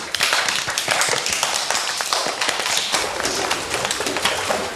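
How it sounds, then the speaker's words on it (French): Schoolchildren applaud their newly elected class president Chloé with a dense patter of close hand claps that holds steady throughout, with faint voices underneath. "Bravo Chloé, on applaudit."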